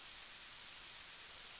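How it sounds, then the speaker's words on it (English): Rain falls in the farming game Harvest Moon 64 as a steady, even hiss with no breaks, quiet and alone. "Odd, it's raining today."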